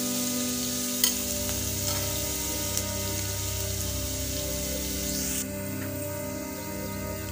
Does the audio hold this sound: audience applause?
no